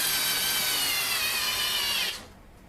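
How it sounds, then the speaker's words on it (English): A 3 newton-meter electric screwdriver drives a screw into a pilot hole with a loud, steady motor whine and grinding that runs for about two seconds, then cuts off abruptly to near silence. "we take the screw, place it in the pilot hole, and start screwing it in"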